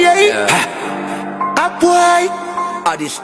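Rap track by a Gambian rapper, a loud beat with melodic synth lines and punchy percussive hits, playing continuously and close.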